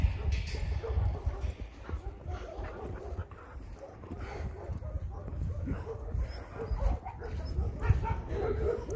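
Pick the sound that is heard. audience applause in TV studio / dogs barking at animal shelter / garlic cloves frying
dogs barking at animal shelter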